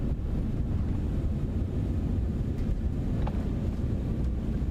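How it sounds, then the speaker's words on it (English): Cessna Citation X thrust reversers roar in Microsoft Flight Simulator 2024 after landing: a loud, steady, broadband rush that holds evenly throughout with no pauses. "Reverser deployed."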